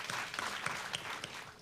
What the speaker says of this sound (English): we're going to give a big round of applause to everyone for all.